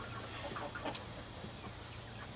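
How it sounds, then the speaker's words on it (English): Faint clucking from a few chickens, including an old hen, in a small pen of about sixteen birds, soft scattered calls over a low steady background hum. "That's a hen right there. That's one of my old chickens."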